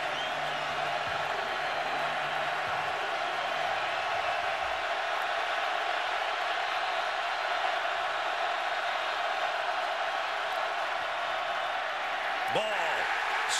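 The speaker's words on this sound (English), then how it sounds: "the homecoming crowd, the fifth largest crowd in Memorial Stadium history, decides that it's time to cheer" Homecoming crowd at Memorial Stadium during a Wisconsin vs Nebraska football game, a broad steady roar of cheering from a large audience, sustained throughout with a brief whoop near the end.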